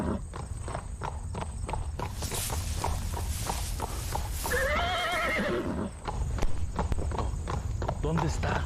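A horse's hooves clip-clop in a steady walking rhythm, broken by a loud wavering neigh in the middle, while people talk continuously over the sound.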